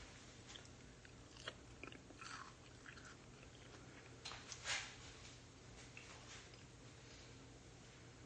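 Crunchy bites and chewing of a chorizo, potato and bean mixture with chicharrones, close and quiet, with a few sharp crunches over a soft steady background.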